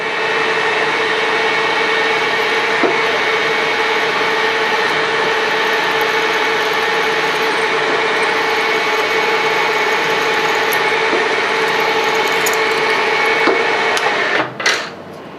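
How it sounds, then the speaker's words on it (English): A South Bend 13-inch lathe hums steadily while power tapping aluminum, a constant motor drone at close range with a few faint ticks and a small clatter near the end. "Sometimes when you power tap with aluminum, you go a little bit too fast"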